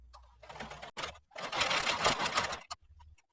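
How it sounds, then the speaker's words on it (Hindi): A sewing machine stitching pant fabric runs in short quick bursts, then in one longer rattling run of rapid stitches, close and fairly quiet with brief pauses between. "अब हम इसे सीधा करेंगे और एक पैर के फासले से एक और सिलाई लगा देंगे"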